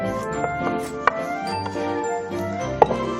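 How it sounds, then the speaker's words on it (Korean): Knife slicing vegetables into thin julienne strips on a cutting board, with a few sharp distinct chops standing out from a soft, steady background. "이렇게 해서 채를 그냥 썰어서"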